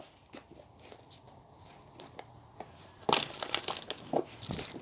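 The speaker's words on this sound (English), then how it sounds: "So let me just shuffle the cards to loosen them up a little bit again." Tarot cards being shuffled, a series of crisp papery riffles and slaps, quiet at first and then louder and denser bursts in the second half.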